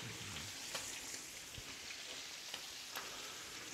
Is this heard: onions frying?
yes